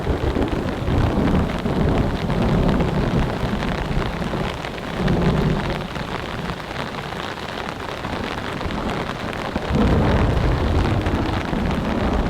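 Heavy rain pours steadily onto a tent during a strong mountain storm, a loud, dense patter that swells in bursts and mixes with low rumbles of thunder.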